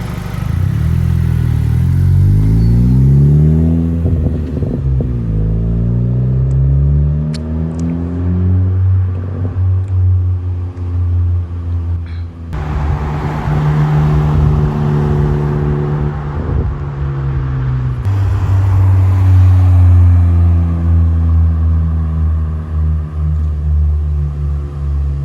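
A 2020 Honda Civic Si with a MAPerformance street exhaust, recorded from outside as the engine revs up through repeated rising pulls and settles back to idle, loud and near, with no talk.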